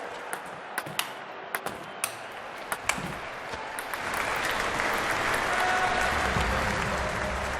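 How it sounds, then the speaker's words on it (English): In the London 2012 Olympics video game, a few sharp pings and ticks open before a stadium crowd breaks into broad, steady applause that swells and holds to the end. "The crowd are on their feet with that point won."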